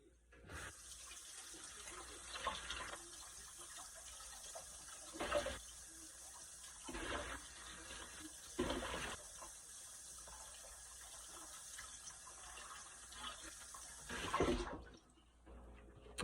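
Water runs steadily from a tap into a sink while a dish is washed under it, with a constant hiss and occasional louder splashes and clatters, before the flow cuts off near the end.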